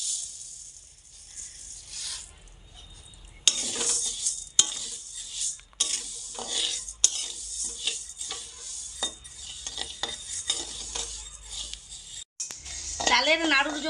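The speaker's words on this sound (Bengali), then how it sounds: "এখন আমি চাল দিয়ে দিচ্ছি।" Basmati rice dry-roasting in a hot kadai over a gas flame, stirred with continuous scratchy scraping and rattling of grains against the pan, broken by a few sharp metallic knocks of the spoon.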